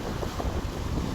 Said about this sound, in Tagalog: alon o ang hangin ay talagang malakas dito sa may Dolomite Beach